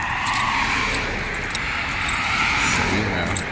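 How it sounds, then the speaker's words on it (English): Cars pass by on the road outside an abandoned CVS store, producing a steady wash of traffic noise and tire hiss that swells slightly as vehicles go by, with a voice speaking faintly over it. "Sorry about all the cars coming by."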